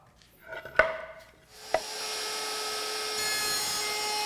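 A few knocks and clamping thumps on a wooden box lid, then a router spins up into a steady high whine as it cuts a mortise with a jig, continuing evenly to the end.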